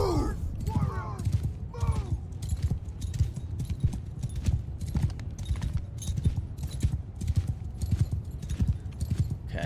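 Horse archers' mounts in the Mount & Blade 2 Bannerlord battle, a dense run of galloping hoofbeats close by. Whinnies break through early on, and there is no speech.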